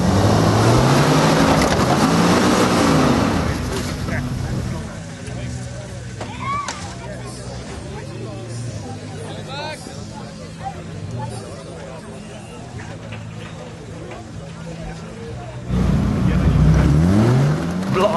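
Two 4x4 off-road vehicles blast off and clamber over scrap BMW cars at a national 4x4 challenge, engines roaring loudly at the start, easing to a lower rumble mixed with crowd chatter, then surging again near the end.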